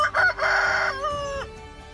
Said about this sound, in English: Now you heard that rooster,